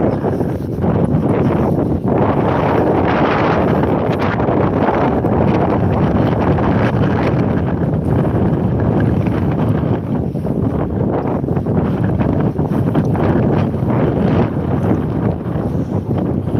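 Strong wind on a seafront promenade at Withernsea roars steadily, buffeting the microphone with a constant rushing noise and no pauses.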